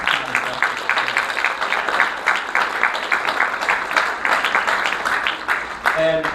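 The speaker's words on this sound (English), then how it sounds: "let's give them a round of applause" A church congregation gives a round of applause, steady rhythmic clapping at moderate loudness that fades near the end as a voice begins.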